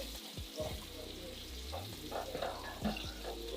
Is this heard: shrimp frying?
yes